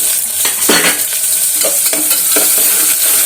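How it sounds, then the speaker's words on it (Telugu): Onions frying in oil for a Rayalaseema dal, loud close sizzling with repeated spoon stirs scraping the pan at an uneven rhythm, no speech. "కొంచెం వేగిన తర్వాత ఆనియన్స్ వేసుకున్నాము"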